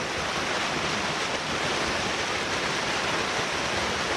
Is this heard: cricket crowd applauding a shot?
no